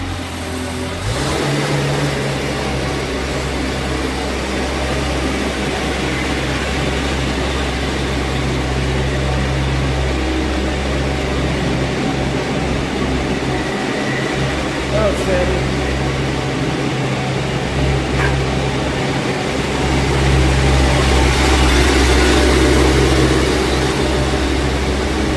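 A 2014 Tennant S30 sweeper's engine runs with a steady low hum while the machine maneuvers and its brooms start, adding a broader whirring layer late on, with people talking intermittently over the machinery.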